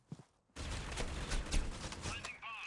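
Gunfire in the mobile shooter Critical Ops during a ranked match, a dense, sustained burst of shots filling most of the clip after a brief quiet start, loud and close, with a voice shouting over it.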